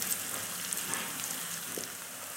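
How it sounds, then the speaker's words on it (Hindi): Ginger garlic paste frying with softened onions in a pan gives a steady, soft sizzle with faint crackles throughout, quiet and unbroken by talk. "अब हम इसमें अदरक लहसुन का पेस्ट डालेंगे और इसको भी प्याजों के साथ थोड़ा सा फ्राई कर लेंगे"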